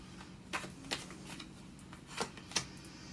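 Tarot cards shuffled and drawn, giving a few soft, brief riffles and slaps spaced irregularly over faint room hum, quiet and close.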